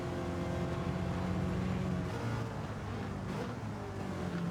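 A 1966 Ford GT40 Le Mans race car in Gran Turismo 7 runs hard on track, its engine a steady dense roar with a brief dip midway as it shifts or lifts, then pulling on again.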